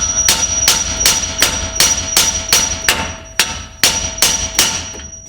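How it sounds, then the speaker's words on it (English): A hammer strikes the side of a RAM 1500 spindle to free a tie rod end, about a dozen sharp metallic taps in a steady, fairly quick rhythm, close and loud. "you're going to give it a few nice taps on the side of the spindle"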